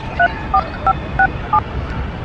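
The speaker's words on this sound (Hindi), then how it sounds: "लल्लन को फोन करते हैं।" Telephone keypad dialing: five evenly spaced two-tone beeps, each short and clear, over a steady low background hum with no talk.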